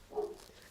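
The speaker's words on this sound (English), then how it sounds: "Oh, apologies for my dog." A dog gives a single short bark or yelp, fairly faint and brief, heard indoors during a live football reaction.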